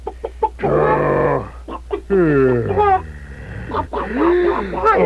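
A hen clucks in a series of short, rhythmic calls during a spoken fairy-tale narration, alternating with a person counting aloud, close and fairly loud.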